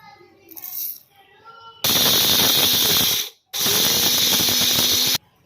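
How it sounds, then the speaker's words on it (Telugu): Two loud bursts of a whirring mixer grinder grinding roasted masala and turmeric into fine powder, each running about a second and a half with a short pause between, after quieter kitchen sounds. "ఆ మిక్సీలో పౌడర్ మాత్రం చాలా ఫైన్గా మెత్తగా అవుతుంది"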